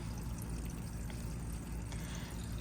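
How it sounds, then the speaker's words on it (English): Wastewater drains from the tank of a 2016 Hymer ML-T 580 motorhome, a steady rushing, gushing flow of water that holds at an even level with no break. "the water should come out of here."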